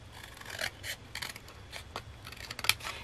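Scissors snip through the corner of a paper tag in a few short, close, quiet cuts, with light rustling between them.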